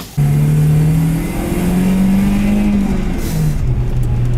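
An old BMW fitted with a worn-out swapped engine pulls away and accelerates hard, its loud engine note rising steadily through the revs at close range with no talking.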